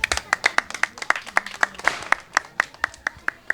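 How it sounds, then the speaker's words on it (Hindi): A small crowd at a political gathering of the Valmiki community claps in a sparse, distinct rhythm, individual hand claps landing at an uneven pace and close by. "एक बार तालियां।"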